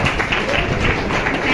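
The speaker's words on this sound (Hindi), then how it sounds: "एक बार बजाइए जोरदार तालियां" An audience at an AWPL business plan presentation bursts into applause, a brief, dense and steady wash of loud clapping.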